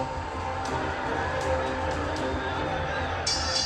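A boxing arena crowd roars and cheers at the close of the first round of a Mike Tyson versus Frank Bruno fight, a broad sustained swell with a few sharp bursts and indistinct voices in the mix.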